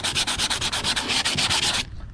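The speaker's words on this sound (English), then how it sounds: "Got my sanding block, and I'm gonna sand the grab rails." A sanding block rubs over wooden boat grab rails coated in flaky varnish, making a close, loud, rapid back-and-forth rasp in even strokes that stops abruptly.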